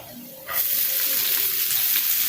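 Chopped onion goes into a hot pan with garlic for egg Manchurian. A sudden loud sizzle bursts up and holds as a steady, bright frying hiss, with faint clinks underneath.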